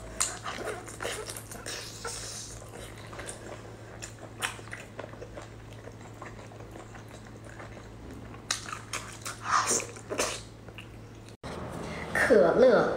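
Cola-braised pork ribs being eaten, with soft wet chewing and biting sounds close up, interspersed with someone speaking Chinese between bites.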